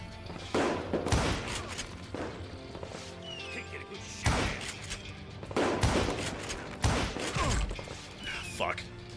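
Rifle gunfire in the Western shooter Call of Juarez: Gunslinger, with sharp shots landing in scattered bursts over a busy battle mix of impacts and crashes.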